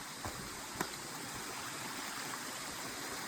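A forest stream on the Devkund waterfall trek in Maharashtra flows with a faint, steady rushing wash, broken by a couple of soft knocks near the start.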